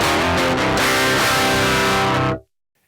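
An electric guitar plays through a heavily distorted amp model with cabinet modeling switched off, giving a harsh, fizzy sustained chord for about two and a half seconds before cutting abruptly to silence.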